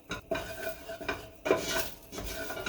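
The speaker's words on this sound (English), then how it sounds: "So into the pan this goes. Put this in there. Turn it up just a little bit. Get that butter melted." A pan is handled on a stovetop while butter melts, giving several close metallic clanks and scrapes of cookware and utensils in quick irregular bursts, with no talk.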